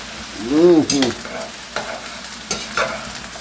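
A spoon stirs a pot of pasta sauce with vegetables and sausage, giving a couple of short scraping strokes near the start, then softer intermittent stirring over a low simmering background.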